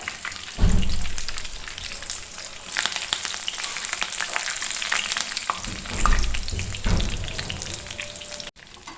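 Chicken pieces frying in oil with curry leaves added: a dense, crackling sizzle that swells sharply as the leaves hit the oil, then churns on with stirring scrapes, close and prominent, cutting off abruptly near the end.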